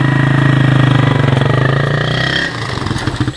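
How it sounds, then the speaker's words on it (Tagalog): A new motorcycle engine idles loud and close with a steady, throbbing mid-range rumble, which settles into a choppier, uneven putter near the end. "Oh, bago po itong motor niya."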